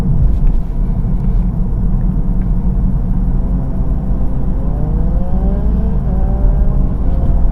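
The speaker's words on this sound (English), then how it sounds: "So I'm just accelerating now" A car accelerates in fourth gear toward a hill, its engine a loud, steady low rumble with a rising whine partway through, heard close from inside the vehicle without talk.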